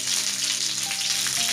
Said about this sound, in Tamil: பாருங்கள், இது நல்லா ஃப்ரை ஆகி வருது.